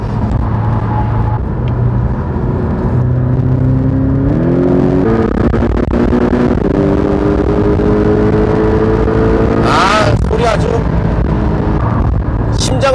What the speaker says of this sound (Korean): 아주 그 엔진 사운드가 끝에 가서 울부짖는 듯한 엔진 사운드가 가슴에 팍팍 와서 박힙니다.